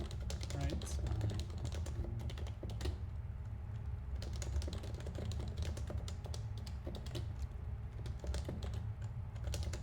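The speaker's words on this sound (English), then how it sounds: "I think something else that's kind of neat about my typing style is that I'm finally using the left shift key" Steady typing on a computer keyboard, rapid clustered key clicks close by with brief pauses, continuing for about ten seconds, with a quiet voice faintly underneath at times.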